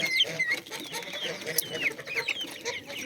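Chickens cluck in a farmyard flock, a steady overlapping chatter of short calls and higher squawks close by, with no talking.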